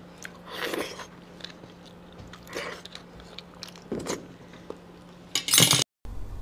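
Close-up eating of spicy beef bone marrow, with wet biting and chewing, slurps and a few light clinks of utensils against dishes, ending in a louder crunchy burst.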